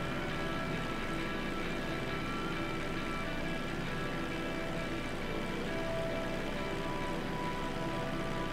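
A small airplane flies in thick fog, its engine giving a constant droning hum with steady tonal whine, close and unbroken throughout with no speech.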